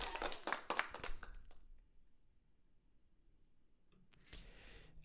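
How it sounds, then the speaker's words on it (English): A short burst of fast hand clapping from one person close by during a live online Q&A stream, about a dozen quick claps followed by near silence and a soft thump. "I'll give him a little applause"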